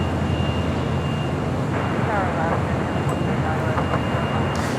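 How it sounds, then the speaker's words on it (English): An Aeromexico Boeing Dreamliner arriving at LAX on the south side, a steady broad jet roar that persists throughout, loud and constant. "Arriving on the south side, Aero Mexico, the Dreamliner committed from Mexico City, flight 644."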